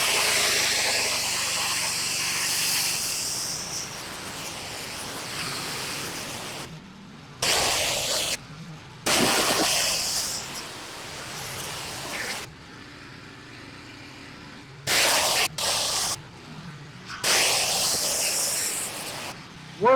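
A 4000 PSI pressure washer spraying in rinse mode gives a long, loud, steady hissing blast, then several shorter bursts broken by brief pauses.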